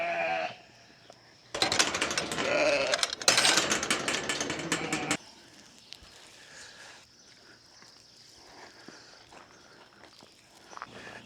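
Sheep bleat loudly and insistently while being herded back in the evening, with footsteps and a faint mechanical whir in the background; the bleating is strongest early on, then fades to quieter rustling and shuffling.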